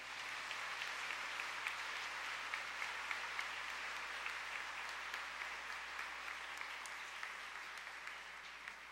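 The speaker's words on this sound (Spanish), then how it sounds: "denle un fuerte aplauso al Padre Celestial" Church congregation at a homily giving loud, sustained applause, a dense, steady patter of many hands clapping for about nine seconds, heard from a distance with no talk over it.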